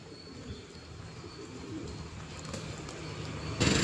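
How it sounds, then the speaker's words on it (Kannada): Pigeons cooing softly in an outdoor spot, a low steady murmur of calls with faint background hum and a brief louder noise at the end. "ಅಪ್ಪಲ್ಲಿ ಎಷ್ಟು ಪಾರಿವಾಳವಿದೆ"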